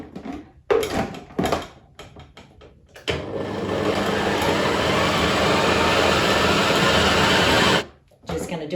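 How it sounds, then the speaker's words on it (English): Electric mixer whirring steadily for about five seconds as it blends a smooth vegan peanut butter filling for Snickers-style bars, loud and continuous, with brief kitchen clatter and a voice before and after. "we're gonna mix this together until it is as smooth as it can be"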